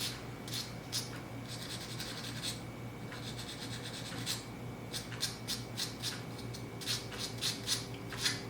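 A coin ring rubbed against 600 grit sandpaper, a close, quiet run of rapid rasping strokes in short bursts with brief pauses, no talking.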